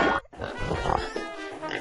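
Video game pig from Ed Edd n Eddy oinking and grunting in a short burst, fairly loud and close, with a brief gap near the start.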